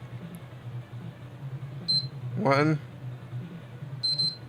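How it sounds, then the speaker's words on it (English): A PS3 Slim console gives short high electronic beeps while its power button is held down during repair, with someone talking over them. "Holding it down till double beep."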